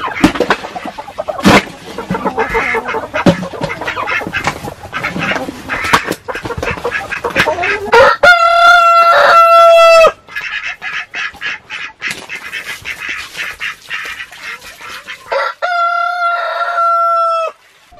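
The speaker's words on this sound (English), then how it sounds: "I bet the chickens can't wait for New York City to get moved around on green pasture again." Chickens in a farmyard, heard as a busy mix of close clucking and squawks followed by two long, loud rooster crows, with further clucking in between.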